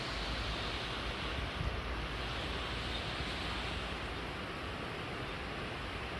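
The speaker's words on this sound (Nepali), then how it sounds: "पानीको बुथहरू चाहिँ टल्पल टल्पल टल्पल टल्पल गरिरहेको छ यहाँ जस्तै।" Rain falling on a rainy day, with drops splashing around outdoor plants, heard as a faint, steady broadband hiss of water that stays even throughout, with no voices.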